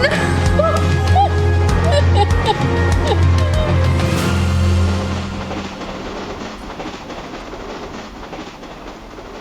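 A train rumbles along the rails in a film scene, loud and close with heavy low roar and clattering, mixed with a dramatic orchestral score and brief shouts, then fading to a quieter hiss.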